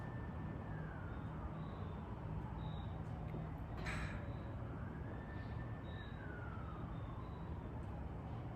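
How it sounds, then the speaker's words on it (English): An emergency vehicle siren wails faintly in the distance, its pitch sweeping slowly up and down beneath a steady low background hum. "Another siren going on in the background."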